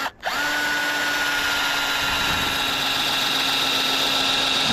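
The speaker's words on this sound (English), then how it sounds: "The battery operated drill here is struggling. It's going slow." Battery-operated power drill whining steadily under load while working on trailer bunks for a homemade skiff, a sustained motor tone that starts abruptly and holds for several seconds, close and fairly loud.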